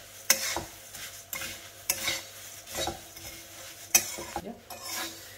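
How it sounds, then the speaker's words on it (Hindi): Spoon stirring puffed rice (muri) tossed with onion, garlic and masala in a pan, a dry scraping rustle with several sharper scrapes against the metal, close and alone, with no talk. "मूढ़ी के साथ भी करीब आधे से 1 मिनट इसको चला लीजिए"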